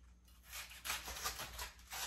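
Knife slicing through a head of cabbage around its core, a run of crisp, rasping cuts close by, repeated several times in a steady rhythm with no voices.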